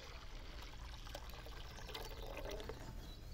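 Birch sap poured from a small can makes a faint, steady trickling splash against quiet outdoor background noise.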